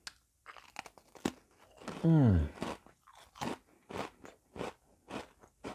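A crunchy Swedish licorice gingerbread cookie gets bitten with a sharp, loud crack, followed by several rhythmic crunching chews up close, and a speaking voice comes briefly before the bite.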